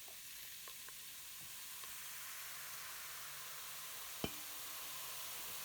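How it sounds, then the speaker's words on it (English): Vinegar and baking soda reacting in a steady, quiet fizz, a soft continuous hiss of bubbling with a few faint ticks and one brief knock, no talking. "It's all fizzing up."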